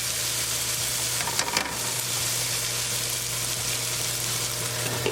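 Potatoes and spinach frying in a pan on a gas stove, a continuous close sizzle with brief scraping bursts as the mixture is stirred.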